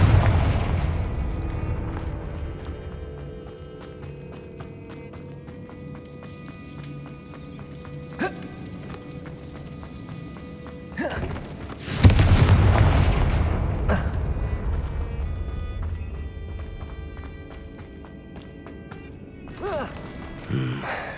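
In the Hogwarts Legacy video game, a Confringo fire spell goes off with a sudden booming blast that rumbles and fades. It sits over a steady background of game music and ambience.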